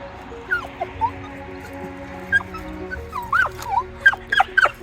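Female dog whimpering and yipping in short high-pitched bursts, sparse at first then more frequent and agitated, close by over low background noise.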